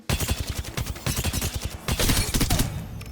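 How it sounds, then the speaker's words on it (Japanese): Rapid gunfire at a firing range in a video game, tested with a gaming keyboard: dense bursts of sharp shots follow one another almost without pause, loud and close throughout. "もう一度射撃訓練場で試してみたいと思います。 はい、撃ってきます。"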